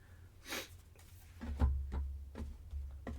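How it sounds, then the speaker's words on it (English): Several short nasal sniffs from a runny nose spaced across a few seconds, faint and close, with soft breathing in between and no talking. "pardon me if you hear me sniffling"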